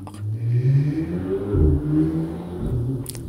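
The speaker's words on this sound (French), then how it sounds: "il y a vraiment beaucoup de trafic dehors." Cars pass outside on a busy, sunny Sunday afternoon, a muffled rumble heard from indoors, with engines swelling and fading in overlapping waves.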